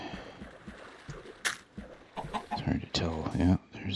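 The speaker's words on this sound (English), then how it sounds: "That chicken is not doing me any favors." Chicken clucks in Minecraft Alpha v1.0 on a coastal expedition, several short bursts close by that stack up toward the end, mixed with other game sounds and a voice talking.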